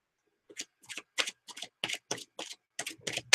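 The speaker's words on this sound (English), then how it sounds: "I'm going to shuffle cards." A deck of tarot cards being shuffled in a quiet room, a dozen or so short riffling bursts in a steady, close rhythm, moderately soft with no talking.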